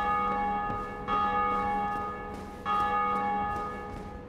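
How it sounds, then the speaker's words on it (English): Two deep, resonant church-style bells toll in Dark Souls Remastered, each strike ringing out and decaying slowly with a long shimmering hum, one struck after the other. "So I assume the bells ring, you can hear it when anybody rings them"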